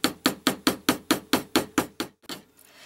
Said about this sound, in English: I'm going to show you how I hammered them.